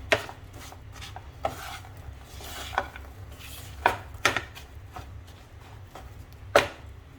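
Dry fruits being roasted with flour in a pan for Sindhi khorak sweet, stirred by hand, giving intermittent scraping and clinking strokes of a spoon against the metal over a low steady background hum.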